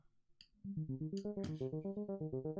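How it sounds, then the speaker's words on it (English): A quiet synthesizer arpeggio pulses rapidly and evenly, cycling through a short repeating note pattern after a brief faint lead-in. "So you hear the arpeggio it's doing."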